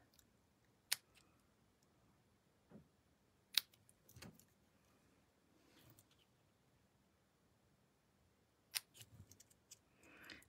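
Paper snips cut through stamped paper card in sparse, crisp clicks and snips, spread out with quiet gaps and a few soft rustles between cuts.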